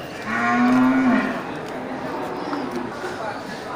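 A male water buffalo at a livestock market gives one loud, drawn-out moo lasting about a second, followed by a steady murmur of crowd noise and background chatter.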